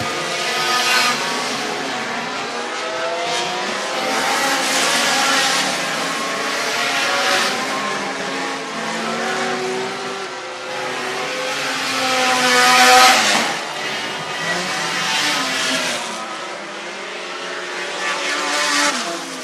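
SCDRA sport compact race cars at Screven Motor Speedway in Sylvania, Georgia, roar steadily around the track, engines loud and near, with swells as cars pass, and no talking.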